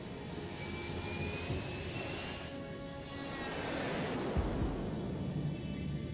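Japan Airlines Flight 123, a jet airliner, flies through the air with a steady, loud engine roar and whine that swells slightly, heard alone without voices.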